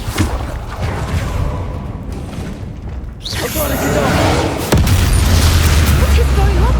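A Confringo fire spell explodes in a Hogwarts Legacy goblin battle: a loud booming burst that swells into sustained rumble, layered over continuous game combat noise.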